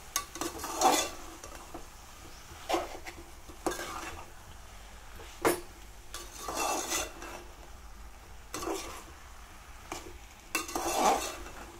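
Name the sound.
stirring ridge gourd and potato curry in a pan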